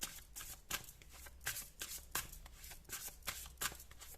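Tarot cards are shuffled by hand in a steady series of soft, papery riffles and slaps, close but quiet, with no voices.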